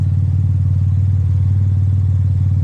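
A 3.6-litre LFX turbo V6 in a Cadillac CTS idles loudly with its exhaust dumped, a deep, steady, rumbling drone with an even pulsing throb close by and no voices.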